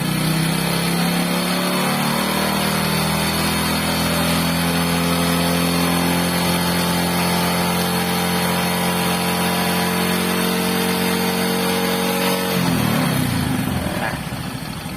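A Honda Supra X 125 motorcycle engine runs steadily at raised revs during carburetor air-screw adjustment, its pitch holding then dropping sharply near the end; loud and close, with a voice talking over it.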